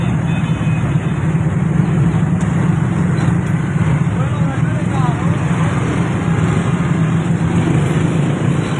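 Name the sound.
traffic jam of big vehicles at a road intersection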